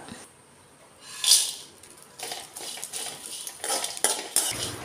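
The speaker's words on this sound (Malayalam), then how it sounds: "ചീനച്ചട്ടി ചൂടാകുമ്പോൾ നമുക്കിതിലേക്ക് നമ്മുടെ ഉണക്ക ചെമ്മീൻ ഇട്ട് കൊടുക്കാം." Dried shrimp dropped into a hot wok and stirred, quiet at first, then a short metallic scrape and bursts of crackling, rustling, and utensil clatter that build toward the end.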